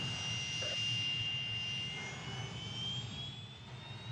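A jet airliner spools up to takeoff thrust on runway 03 at an airport, a steady loud roar with a rising whine, heard from a distance without talk.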